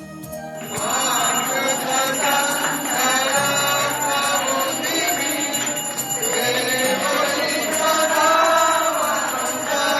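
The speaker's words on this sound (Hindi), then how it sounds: "वहीं अब पूजा की घंटियां और आरती की गूंज सुनाई दे रही है।" Temple worship bells ring continuously during aarti, a dense metallic clanging that rings on and on with devotional chanting and music mixed in, loud and sustained throughout.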